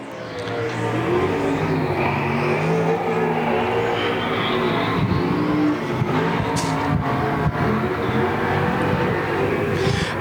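A dirt track race car at Golden Triangle Raceway Park roars steadily down the front stretch during a Spring Havoc race, its loud engine note sustained and close throughout, with track ambience behind.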